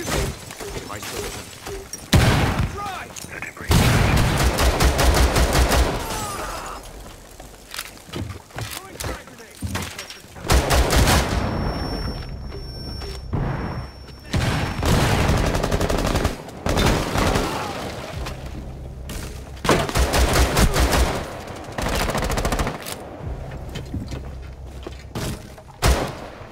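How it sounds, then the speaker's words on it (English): Repeated bursts of rifle and machine-gun fire in the Rainbow Six Siege shooter, set on the Chalet map in a team deathmatch secure-area round, loud and close with heavy thuds and blasts, stopping and starting over about twenty-six seconds, with voices in places. "someone's still shooting at me, so be careful"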